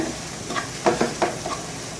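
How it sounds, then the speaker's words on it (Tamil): Curry masala powder sautés in a hot pan for an egg podimas dish, giving a soft steady sizzle broken by a few close scrapes of a spoon stirring. "குழம்பு தூள் சேர்த்து 1 நிமிஷத்துக்கு நல்லா வதக்கி விட்டுட்டு அதுக்கப்புறம் முட்டை சேர்க்கணும்"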